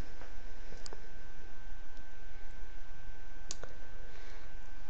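A computer mouse clicks while settings are updated on a YouTube page: two sharp, isolated clicks a few seconds apart over a steady low background hum.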